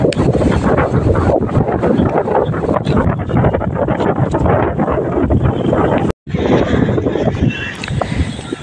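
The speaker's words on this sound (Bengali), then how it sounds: "আর প্রচুর হাওয়া দিচ্ছে এখানটা, হালকা হালকা বৃষ্টিও পড়ছে।" Strong wind on the first day of Cyclone Remal, with light rain, buffets the microphone outdoors. It roars as a loud, continuous gusting rush with a brief dropout near the end.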